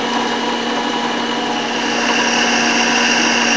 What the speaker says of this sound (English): On this drill press, we're going to use the contact probe to check for bad bearings.